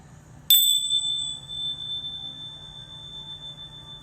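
A single bell is struck once before a prayer, a bright ringing onset whose tones sustain and slowly fade over a low steady hum, with no talking.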